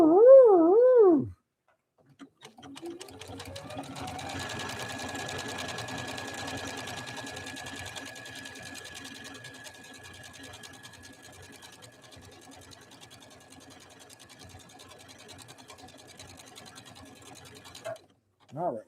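A Janome Skyline S5 computerized sewing machine stitches steadily for about fifteen seconds with a constant high whine over a rapid needle patter, bracketed by brief talk at the start and end.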